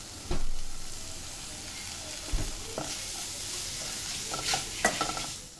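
Chopped tomato and coriander frying in hot oil for a ridge gourd bhaji, with a steady sizzle broken by a few short scraping stirs of a utensil in the pan, close and moderately loud.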